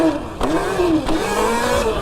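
An electric Sur Ron dirt bike with an upgraded motor and controller whines as it rides, a close, steady motor tone rising and falling with throttle, punctuated by brief knocks.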